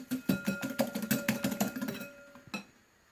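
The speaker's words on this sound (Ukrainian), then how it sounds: "Потім вінчиком все перемішуємо" A whisk beats a batter of sugar and eggs in a bowl for apple kefir pancakes, giving rapid rhythmic clinking strokes close by that slow and stop near the end, with one last tap.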